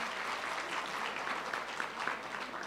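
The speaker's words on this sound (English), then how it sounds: "Please let us applaud Professor Reid." Audience applause in a hall after an annual foundation lecture on nutrition, steady continuous clapping for nearly three seconds with no talking over it.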